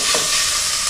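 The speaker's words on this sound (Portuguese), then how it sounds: "vou colocar aqui, ó, nosso toicinho de porco." Pork fat frying in oil in a rice pot on a wood-fired stove gives a steady, close, bright sizzle with a brief stirring scrape near the start, no voices.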